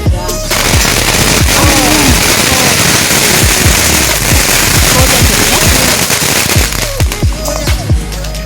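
Diwali firecrackers bursting in rapid, irregular succession, loud sharp pops and crackles overlapping one another, with a brief lull near the end before more bangs.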